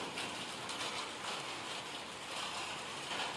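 Steady rain falling, a dense continuous patter of drops with a soft hiss, even and unbroken throughout.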